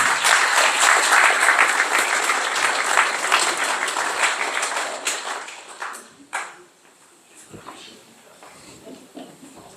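Steady applause from an audience at a community centre talk welcomes a speaker. The clapping is dense and close, then thins to scattered claps and fades out near the end.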